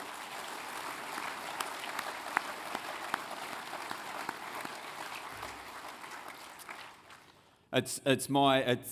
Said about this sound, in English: he probably deserves another round of applause for that